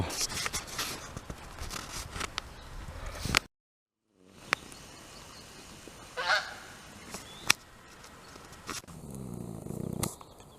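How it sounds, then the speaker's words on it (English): Loud honking from a goose nearby, a few harsh calls scattered among outdoor rustling and clatter, with a brief gap of silence midway. "That was a huge goose"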